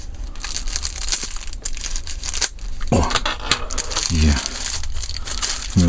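Close crinkling and tearing of plastic wrap and tape as a taped wallet package is unwrapped, with rustling handling noises and brief voice sounds mixed in.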